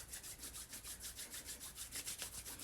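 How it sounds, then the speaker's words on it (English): Palms rub briskly together to build warmth, a soft, close, rhythmic swishing of skin on skin repeating several times a second with no talking. "So rub, rub, rub, rub, rub. Create some heat and energy."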